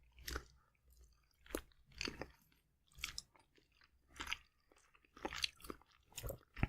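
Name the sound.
chewing turnip cake with sausage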